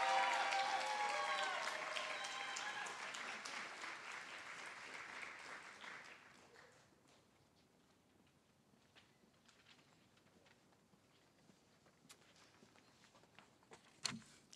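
A large audience applauds to welcome a speaker to the stage, loud and dense at first, then fading over about six seconds into quiet room tone with a few scattered claps and a sharp tap near the end.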